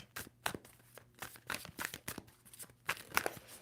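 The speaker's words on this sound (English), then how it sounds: "2 more shuffles for Virgo." A deck of tarot cards being shuffled by hand, a series of short crisp riffling and sliding bursts at an irregular rhythm, close and fairly quiet with no talking.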